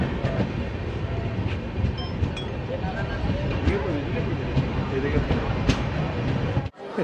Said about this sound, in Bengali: ট্রেন এসে পৌঁছলো এই বহরমপুর কোর্টের 3 নম্বর প্ল্যাটফর্মে